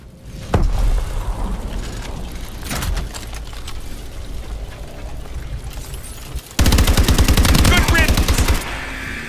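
A turret machine gun fires in the Exo Zombies mode on Xbox One, with scattered loud gunshots followed by a sustained rapid burst of automatic fire near the end, with faint game noise between.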